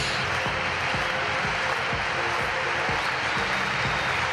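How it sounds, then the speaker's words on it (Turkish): A large indoor athletics crowd applauds and cheers for a home triple jumper at the European Indoor Championships, a dense steady roar of clapping that fills the arena throughout. "Büyük bir tezahürat var onun için"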